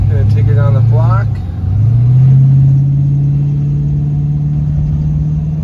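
A 1936 Ford Coupe pulls away down a residential block, its engine note dropping briefly then rising into a steady, smooth low drone close by, with a voice talking over the first second.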